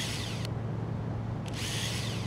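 A power screwdriver drives screws back into a panel in the space-trading game Objects in Space, a steady mechanical whir with two brighter buzzing bursts over a constant low hum.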